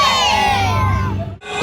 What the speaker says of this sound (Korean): 여러분 우리 선수들을 뜨거운 박수로 환영해 주십시오